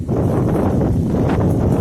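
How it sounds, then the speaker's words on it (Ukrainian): Steady, broad roar of wind buffeting outdoors, constant and loud throughout with no gaps, rumbling low against the microphone. "Такий вітер на дворі. Великий."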